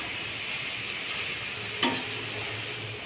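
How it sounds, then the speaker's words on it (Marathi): Beetroot halwa roasting in ghee in a pan, a steady soft sizzle with a single sharp scrape of the spoon partway through, fairly quiet and without voices. "आता व्यवस्थित भाजून घेणे। तुपात भाजल्यामुळे अगदी मऊ होतं।"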